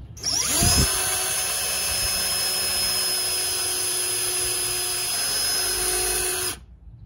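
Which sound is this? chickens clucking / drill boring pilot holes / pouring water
drill boring pilot holes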